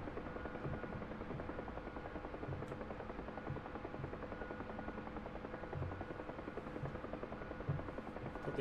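A Huey helicopter in the DCS flight simulator drones steadily throughout, its rotor chop and turbine whine loud and continuous with no talking over it.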